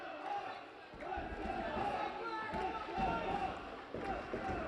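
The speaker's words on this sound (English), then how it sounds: "Bethel Park faithful cheering on their team." Bethel Park fans cheer at an away high school hockey game, a sustained crowd roar with shouts that rises and falls and echoes in the rink, with voices mixed in.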